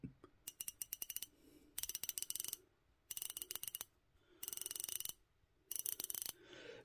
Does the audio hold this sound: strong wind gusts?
no